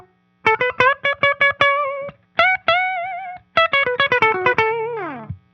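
Clean-toned electric guitar picking a minor pentatonic line in short staccato bursts, rapid clipped notes with brief pauses between phrases, ending on a bend that slides down, close and loud with no talk.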